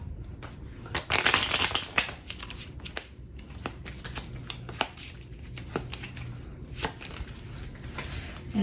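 A deck of cards being shuffled again and again, crisp riffling bursts and soft clicks close by, with no voices.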